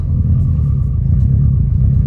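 A car's exhaust on deceleration under engine braking after a burble tune, with a steady low rumble and faint crackle throughout, loud and close with no talk.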